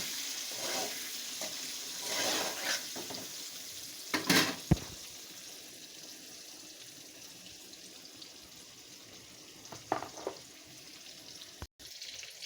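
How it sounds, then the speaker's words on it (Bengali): Eggs fry with turmeric in a pan at a quiet, soft sizzle, with a few scraping stirs early on, a brief clatter in the middle and a sharp click near the end. "দিয়ে ডিমটা ভাজা করে নেব, একটু ভেজে নেব"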